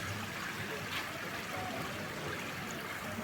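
Water runs steadily from a small outdoor fountain in a town in Germany, a soft continuous trickle and splash heard from nearby, fairly faint and without any talking.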